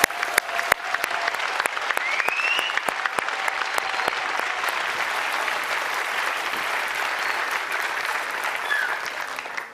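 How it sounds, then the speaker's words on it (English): Loud, sustained applause from an audience at the 2023 Harvard President's Innovation Challenge awards ceremony, honoring the finalists and semi-finalists; a few sharp claps ring out near the start before dense, steady clapping fills the room, tapering slightly at the end. "a big round of applause for this year's PIC."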